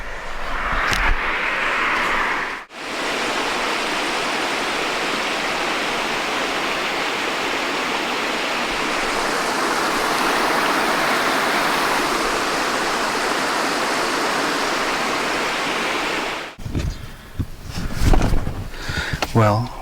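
Steady rushing roar of a river flowing in Happy Valley-Goose Bay, broadband and constant for most of the stretch, with brief breaks and a few faint knocks and movements near the end.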